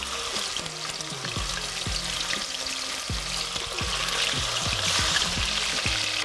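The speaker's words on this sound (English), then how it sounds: "now we've got the oil in the Dutch oven. You wanna sear both sides of the meat." Meat searing in hot oil inside a Dutch oven, a continuous bright sizzle with occasional low clunks and scrapes as pieces are placed and moved, close and fairly loud with no talking.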